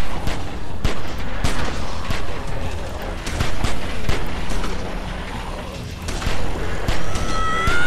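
Gunfire in The Walking Dead video game, with scattered sharp shots and booming blasts spread across the stretch, mixed with a horse's whinny and shouting voices.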